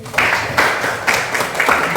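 A classroom of students applauds together, a steady burst of mixed hand claps with rhythmic swells, fairly loud and close, without talk over it.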